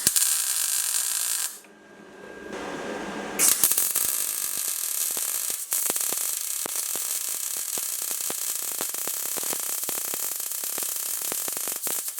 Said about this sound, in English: the final thing left to do is get those two pieces welded together